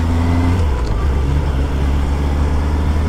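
A road vehicle in first gear labours along a badly broken road, its engine droning low and steady up close, with wind and road rumble and no voices.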